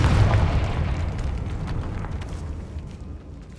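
A Confringo fire spell explodes in Hogwarts Legacy: one loud, deep boom at the start whose rumbling tail slowly fades over a few seconds.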